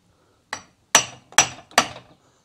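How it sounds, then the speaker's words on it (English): Four sharp metal strikes of a hammer tapping a 19 mm socket to seat a new primer bulb on a Tecumseh small engine, the first light and the next three harder, spaced about half a second apart, close up with no talk. "this is a 19 millimeter socket, seems to work good, and you're just going to hit that"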